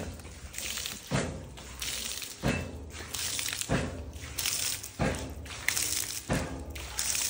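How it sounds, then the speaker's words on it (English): Water pouring over from a ram pump running at about 60 PSI, a steady splashing flow broken by about six heavy rhythmic thumps from the pump's valve cycling, close and moderately loud. "As you can see, we're not using the whole 10 gallons a minute because it's pouring over."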